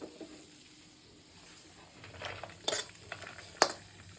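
Moong dal being stirred and fried in ghee for laddoos, with a soft steady sizzle under scraping stirs and a few sharp metallic clinks of a spoon against the pan near the end.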